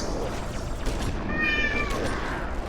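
A house cat meows plainly once, a drawn-out cry rising over a steady background of game music and effects.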